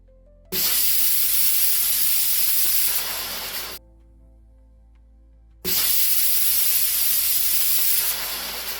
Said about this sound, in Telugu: ఇప్పుడు స్టవ్ మీద కుక్కర్ పెట్టి మీడియం ఫ్లేమ్ మీద 2 నుండి 3 విజిల్ వచ్చేంత వరకు ఉడికించుకోవాలి